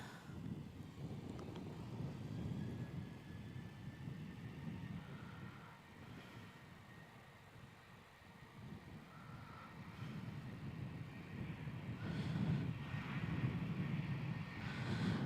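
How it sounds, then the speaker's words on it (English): Qantas Boeing 737 airliner on its takeoff run at Melbourne Airport, bound for Sydney: a steady, moderately distant engine roar with low rumble and wind buffeting, swelling louder toward the end. "Qantas 436 clear for takeoff, heading up to Sydney"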